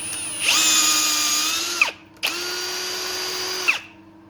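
Two long bursts of a high, whining milling machine drilling a hole, cutting steadily, each about a second and a half, with a brief pause between them.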